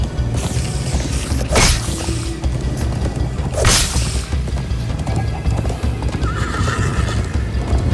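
Horses gallop in the Minecraft Story Mode video game, with rapid, steady clip-clop hoofbeats, a loud whinny, and a rushing whoosh, all close and loud with no talking.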